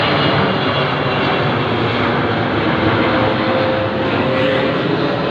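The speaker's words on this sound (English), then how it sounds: "I'm just going to show the army aircraft coming for me" Army aircraft fly overhead in the survival video game SOS, giving a loud, steady, close engine roar that drones on without a break.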